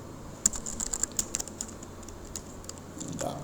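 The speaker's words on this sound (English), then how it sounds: "So we're going to type" Keystrokes on a computer keyboard while HTML code is typed, a quick irregular run of light clicks that thins out toward the end, close and fairly quiet.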